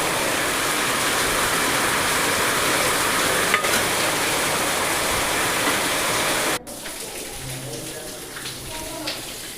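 Chicken curry masala with tomato and chilli sautés in a covered pan, giving a dense, steady hiss and crackle that abruptly becomes quieter partway through, with a voice speaking over it.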